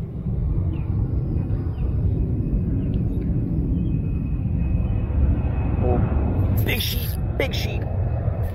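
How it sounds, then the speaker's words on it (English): An airplane drones overhead with a steady low rumble, joined briefly by a few faint higher sounds near the end. "Sorry, you guys probably can't hear anything with the airplane."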